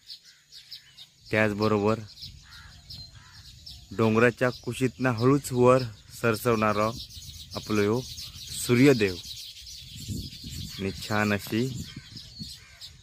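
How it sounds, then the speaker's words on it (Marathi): Birds chirp at dawn in a Konkan hill village, with faint, scattered high calls heard continuously beneath someone narrating. "पक्ष्यांची किलबिलाट"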